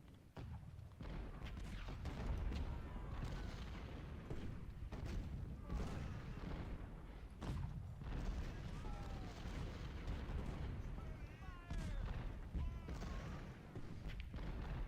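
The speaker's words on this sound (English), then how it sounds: "It's also a lot of artillery." Artillery fire in a Civil War battle game at the second battle of Winchester, a continuous rumble of cannon booms and thuds at moderate distance with talking mixed in.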